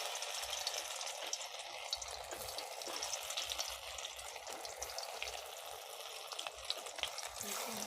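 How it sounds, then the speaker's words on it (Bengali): Square pieces of pea dhoka frying in hot oil in a pan: a close, continuous crackling sizzle that stays dense and even throughout, with no talking. "তেলটা গরম হতে থাক, একে একে তেলে ভালো করে লাল লাল করে ভেজে নেব।"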